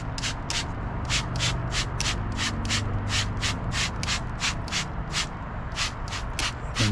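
A trigger sprayer spritzes gel-like low-odor iron wheel cleaner onto a dirty car wheel in a quick, regular series of about twenty sharp hisses, close and loud over a steady background hum.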